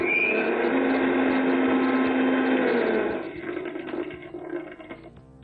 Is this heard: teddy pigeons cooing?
no